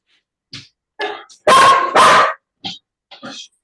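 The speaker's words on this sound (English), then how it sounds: "You hear my dog?" A dog barks nearby in a series of loud yaps and whimpering yips, two long, intense barks at the center, with quiet gaps between each burst.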